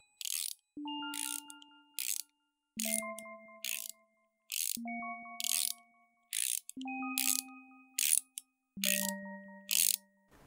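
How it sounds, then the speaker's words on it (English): Soft mechanical ratcheting in a quiet, dark space: five evenly spaced bursts, each a cluster of crisp clicks with faint ringing tones, repeating in a steady, symmetrical rhythm. "The soft, symmetrical, mechanical rattling whispered through the darkness"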